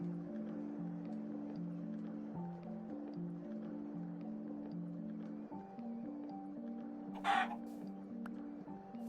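Minecraft chicken clucking softly over steady looping game music, with one sharper burst of noise near the end.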